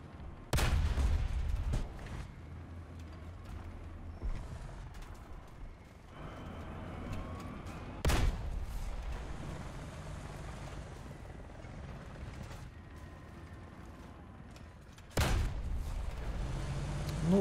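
Tank cannon shots in the War Thunder video game: three loud, sharp blasts spaced several seconds apart, each followed by a sustained engine-like rumble and mechanical noise between shots.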